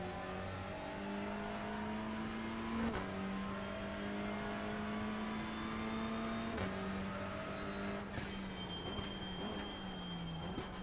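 A race car engine in the iRacing sim, with a blow-off valve and VTEC, drones and revs steadily through gear changes with rising and falling pitch, continuous and fairly loud, no voices.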